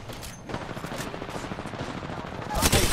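Sustained rapid gunfire rattles through a close, busy Apex Legends firefight, dense and continuous for the whole stretch, swelling louder near the end, with no talking.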